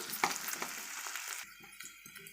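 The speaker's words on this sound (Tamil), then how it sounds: "அதுக்கு தான் நம்ம வெங்காயத்தை ஆட் பண்ணிக்கிறோம். இப்போ இதை நல்லா வதக்கிக்கலாம்." Onions sautéing in a pan for chutney, a soft broadband sizzle with a few light stirring scrapes, which thins out halfway into quieter, sparse pan sounds; faint and close, no voices.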